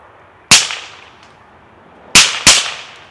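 A suppressed Dillon DRC 5.56 rifle fires three sharp, loud cracks right at the ear, with one lone shot followed by two quick shots, each decaying briefly outdoors.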